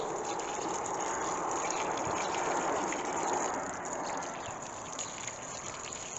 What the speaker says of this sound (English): I'll just put my watering in.